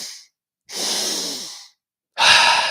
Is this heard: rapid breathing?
yes